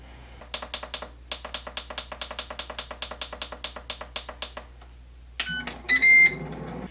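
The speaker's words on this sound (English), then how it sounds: "Air fryer is finished preheating." A run of rapid, evenly spaced key-like clicks gives way to a short burst of bright electronic beeps as the air fryer signals that preheating is done, close and clear with no talking.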